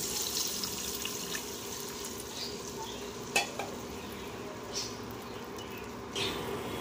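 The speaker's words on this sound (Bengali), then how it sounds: "বেগুন ভাজা হয়ে গেছে, দিয়ে দেব পরিমাণ মতো জল" Water poured onto fried eggplant in a hot pan for an eggplant-and-hilsa curry, sizzling and bubbling steadily with a few clinks of a utensil, close and moderately loud, with no talking.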